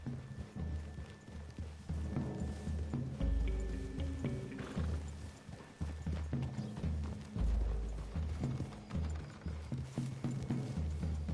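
Horses walking through a wooded clearing in Red Dead Redemption 2, steady clip-clop of hooves at a moderate pace with faint rattling tack, heard alone at a comfortable distance.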